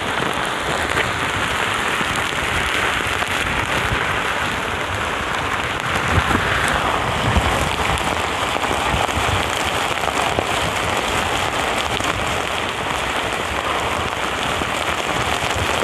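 Heavy rain pours down during a typhoon, a dense, loud and constant hiss of drops hitting surfaces. It runs unbroken for about sixteen seconds with no voices.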